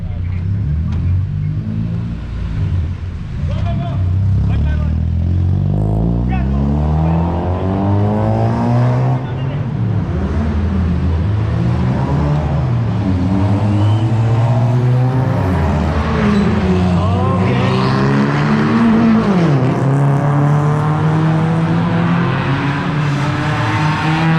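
Loud modified Suzuki Ignis engine roaring and revving through gear changes on a race track, pitch climbing and dropping repeatedly as it races, steady and close for the whole stretch.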